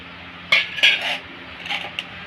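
Ground paste, chili paste, turmeric, salt and a little water mixed into a batter in a bowl, a few close clinks and scrapes of a utensil against the dish with quiet gaps between.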